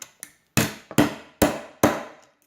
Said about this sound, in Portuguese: Vou pegar aqui um martelo.